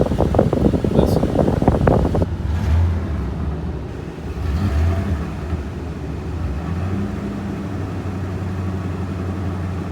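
A 1993 Dodge Dakota engine running on gas vapor idles with a steady, close low rumble and some wind noise. A voice is briefly heard at the start.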